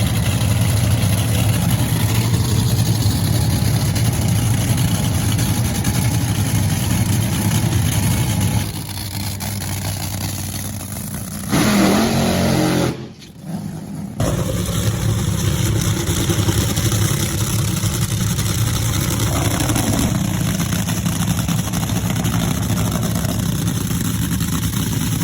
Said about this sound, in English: It's really hard to film and talk when you got dragsters going all day.